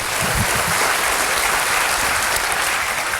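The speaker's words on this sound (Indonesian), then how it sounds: "Berikan tepuk tangan kita untuk Tuhan kita." Congregation applauding in praise during a church service, a dense steady wash of clapping that holds evenly throughout at full strength, with no voices rising above it.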